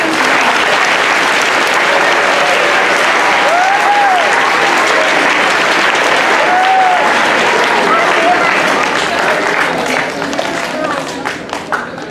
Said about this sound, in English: let's give all of these students a round of applause